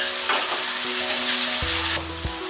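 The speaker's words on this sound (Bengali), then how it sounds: "1/2 চা চামচ দিলাম রসুন বাটা আর 1/2 চা চামচ দিচ্ছি আদা বাটা। দিচ্ছি 4টা কাঁচামরিচ খালি।" Garlic paste, ginger paste and green chilies frying in hot oil for a snake gourd and egg stir-fry, giving a steady close sizzle with faint clinks, with no talking.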